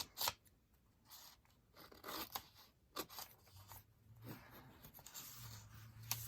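Scissors cutting a phrase out of paper, with faint, close snips and crisp paper rustles arriving in irregular bursts in a quiet room.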